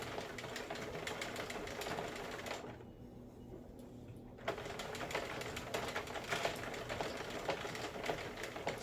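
A hand-cranked Sentro knitting loom works yarn with a steady, rapid mechanical clatter of clicking needles that runs continuously and close, pausing briefly partway through before the cranking resumes.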